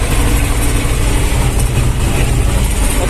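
A small mini-tractor engine idles with a steady low rumble and rattle, close by and constant throughout.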